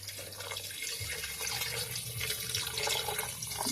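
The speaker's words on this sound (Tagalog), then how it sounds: "Ako ning butangan og tubig." Water is poured into a cooking pot for a simple home-cooked dish, a steady splashing and gurgling stream that grows slightly fuller as it goes, with no talk.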